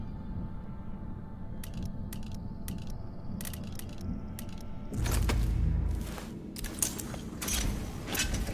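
Elevator machinery in the video game Dishonored 2 clanks and creaks, with ratcheting mechanical clicks over a steady low hum, then a louder rumbling surge of moving gears near the middle.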